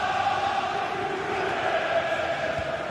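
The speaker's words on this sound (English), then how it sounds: "Well, just listen to this crowd." Stadium crowd roaring in a football video game, a steady, dense wash of chanting and cheering that holds at an even level throughout, with no single voice standing out.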